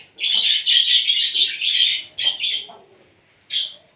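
Close pigeon calls, a run of bright chirps and tweets with a short gap before a final call, alone without talk.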